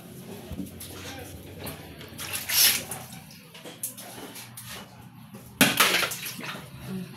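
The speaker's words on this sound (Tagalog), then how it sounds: "Tulo ni ko si CR guys." Water runs and splashes in a bathroom (CR) of a boarding house from a leak, with uneven sloshing and a couple of louder gushes heard at close range under faint background voices.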